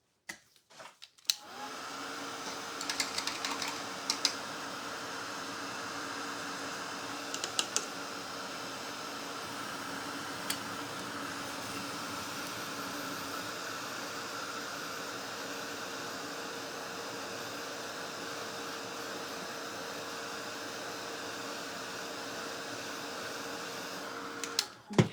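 A handheld dryer blows steadily on wet paint over a Santa suit painting, a constant loud whooshing hum that starts abruptly after a second and runs unbroken for about 24 seconds, with a few faint clicks and no talk.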